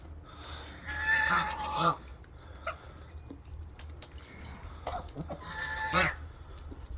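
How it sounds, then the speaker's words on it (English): Farmyard fowl, likely chickens, gathering outdoors in rural Coorg, India, giving two bursts of clucking and calls around the one- and six-second marks with softer scattered clucks between, fairly close over a low steady background hum. "here comes the chickens"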